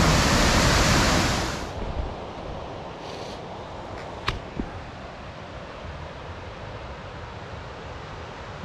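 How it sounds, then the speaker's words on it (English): Broad steady rush of river water running below a trail along the Collins River, a loud continuous wash that drops slightly in level after the first couple of seconds, with a couple of brief clicks. "there's a lot of water running down there"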